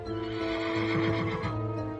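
A horse neighs once in a long wavering whinny, close and clear over a low steady background, with no speech.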